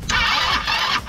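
Italika DS-150 motorcycle being cranked by its electric starter, a steady mid-to-high whirring grind lasting about a second with a brief dip partway through, close and loud, with no engine catching.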